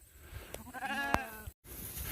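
On a small farm, a single sheep gives one short, wavering bleat. The call is fairly faint, with quiet rustling before and after it.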